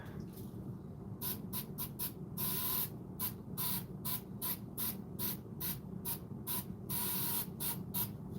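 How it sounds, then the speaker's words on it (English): Short bursts of Super 77 spray adhesive hiss from an aerosol can in rapid repeated sprays, over a faint steady background hum while making knee pads. "So I'll spray that, give it a little coat."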